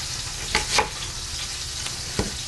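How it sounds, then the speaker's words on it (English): Constant loud sizzle of duck browning in a hot pan, with a few soft scrapes and taps from stirring. "While my duck is browning"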